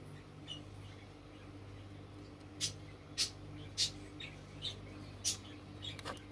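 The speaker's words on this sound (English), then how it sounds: "My bird's chirping in the back." A pet bird chirps faintly in the background, short sharp tweets spaced a second or so apart over a steady low room hum.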